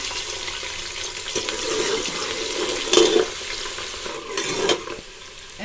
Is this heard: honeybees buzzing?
no